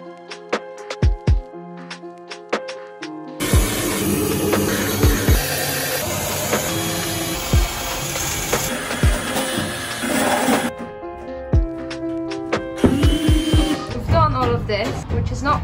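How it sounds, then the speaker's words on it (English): A wire brush wheel on a drill grinds rust to bare metal inside a Mercedes Sprinter van, a loud, harsh metallic whine and rasp in long bursts broken by pauses and a few sharp clanks. "We've grinded the rust, most of the rust inside the van, to bare metal"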